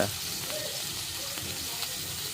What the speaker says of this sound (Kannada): ಎಣ್ಣೆ ಕಾದ ನಂತರ ಜೀರಿಗೆ ಸಾಸಿವೆ ಹಾಕಿನ್ರಿ ಹಾಗೂ ಕರಿಬೇವು ಹಾಕಿನ್ರಿ